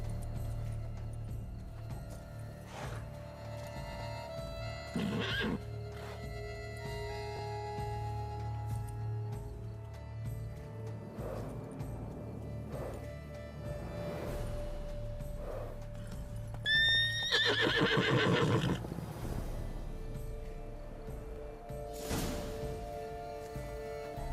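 Roach, a horse in The Witcher 3, gives one loud, shrill whinny partway through, set against soft hoof clip-clops, a low ambient hum and scattered game sounds.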